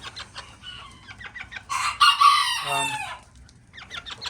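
Chickens, including young pullets, cluck and squawk close by, with a louder, excited burst of calls in the middle and quieter clucks around it.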